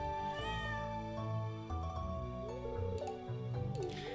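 A cat meows in the Stardew Valley farming game, with short mews set against cheerful in-game music and chiming tones, close and clear, with no talking.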